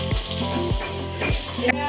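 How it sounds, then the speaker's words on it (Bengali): Catla fish fries in oil with a close, steady sizzle, broken by a few quick thumps and clatters of kitchen handling over about two seconds. "এদিকে মাছ ভাজা হচ্ছে কাতলা মাছ"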